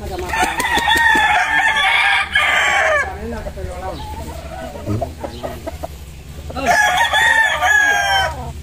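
A rooster crows loudly and close by, one long call at the start and another near the end, with quieter farmyard sounds in the stretch between.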